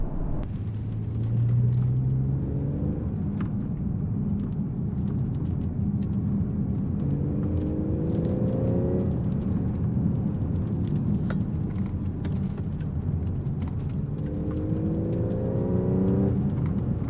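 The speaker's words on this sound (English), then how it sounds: "put my foot down and let you guys hear the engine" A supercharged 2013/2014 Audi SQ5 in dynamic mode accelerates hard along a winding country road, its engine note climbing through repeated rising sweeps between gear changes over a constant road rumble inside the cabin.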